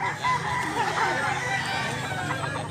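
A spangled gamecock crows at a Cebu poultry sale, one drawn-out call carried for nearly three seconds at moderate distance, with other fowl and background noise beneath.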